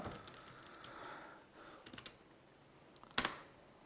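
Someone types on a gaming keyboard in quick, light key clicks that come in short bursts, quiet and close, ending with one sharper clack, and no voice over them.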